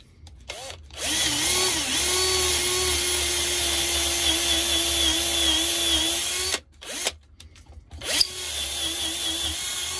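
A Parkside power drill bores into wood with a steady, loud motor whine, stops briefly, then revs again in short bursts near the end.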